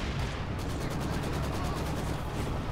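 Mortar and artillery fire in the strategy game Company of Heroes 2 rumbles as a dense stream of blasts and rapid bursts, loud and constant, with no talk.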